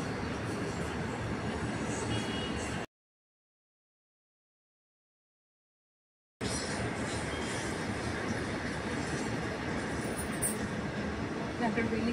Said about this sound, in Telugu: ట్రైన్ వెళ్తుంది ఇక్కడ.